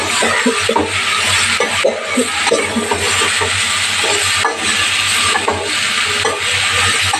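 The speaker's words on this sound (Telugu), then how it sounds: "సొరకాయ ముక్కలు వేసుకొని ఒక 2 సార్లు కలుపుకొని పెట్టుకున్నాం" Pieces of bottle gourd (sorakaya) are stirred in a hot pan as they fry, with a steady sizzle and repeated scraping strokes close up, and no voices.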